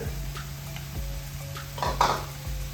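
A handful of grated coconut goes into a sizzling pan and is stirred in, soft frying hiss with rhythmic metal spoon scrapes and clinks against the pan, growing louder near the end.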